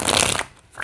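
Tarot cards are shuffled in one quick, crisp riffle up close, then a brief pause and a faint rustle.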